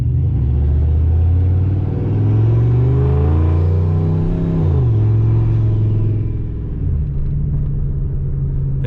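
A Ford F150 with a big single turbo pulls away at medium throttle, a loud, deep engine rumble near at hand that rises in pitch, drops briefly at the shift from first to second, then climbs again.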